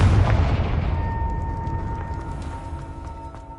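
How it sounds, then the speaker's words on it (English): A Confringo spell explodes in Hogwarts Legacy with a loud low boom at the start that decays into a long rumbling tail, and a faint sustained tone hangs underneath. "Oh, Peeves. Confringo!"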